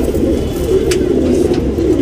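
A male tournament racing pigeon gives soft, throaty coos close by, a low rolling murmur repeating with no pause.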